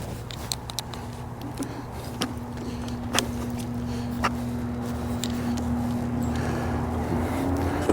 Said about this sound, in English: I don't know if that DJI mic is suppressing this wind